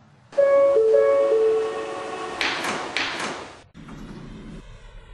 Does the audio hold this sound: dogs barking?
no